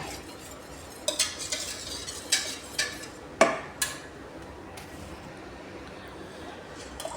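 A thick batter is stirred and mixed in a bowl, with a few sharp clinks of a utensil against the side over a soft scraping background, fairly faint and close.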